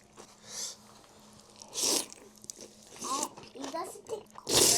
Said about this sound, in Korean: 아삭아삭 너무 맛있다.